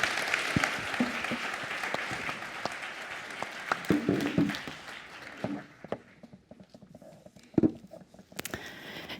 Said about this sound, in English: would ask you for a big applause for a fantastic panel.